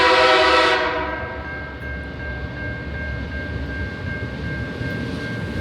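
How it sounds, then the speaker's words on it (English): A five-locomotive Tasrail consist with a geometry wagon passes Dawson's Siding north of Railton, Tasmania, sounding a loud horn blast that cuts off, then a steady rumble and rattle of wagons rolling by nearby. "the giant 5-loco consist along with the Tasrail geometry wagon right behind the 2050s, passing through Dawson's Siding just north of Railton"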